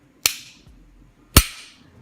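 A Glock Gen 5 pistol trigger gives two separate sharp, crisp clicks about a second apart, close and fairly quiet against a silent room.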